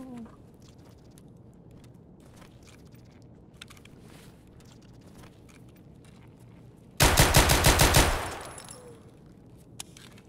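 A short, loud burst of rapid pistol shots in Escape from Tarkov, about a second of quick cracks followed by a fading echo, set against quiet background ambience.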